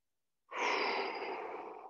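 A single long, deep breath taken during a guided stretching session, starting after a short silence and held steady as a soft, breathy exhale close to the listener.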